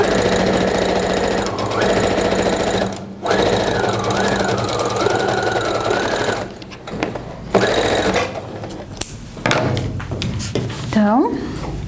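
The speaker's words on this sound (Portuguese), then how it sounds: "E aqui eu vou costurar." A sewing machine stitching the sides of a fabric wolf-mouth cosmetic pouch, a fast, steady mechanical whir-and-knock running for several seconds close up, pausing briefly, then resuming in shorter bursts with someone talking over it.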